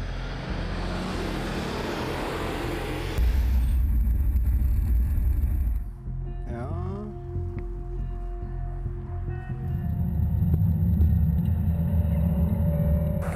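A remote-controlled stunt car rumbles loudly and surges off as it accelerates, then fades, a whining engine tone rises briefly, and a deep roar builds again toward the end.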